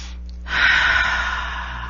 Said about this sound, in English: Take that deep breath